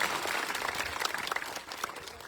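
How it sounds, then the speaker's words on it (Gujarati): Rally crowd applauding at an outdoor farmers' political gathering, a dense steady wash of clapping that holds for a couple of seconds at moderate distance, with no talk over it. "એકવાર જોરદાર તાળીઓ થઈ જાય મિત્રો"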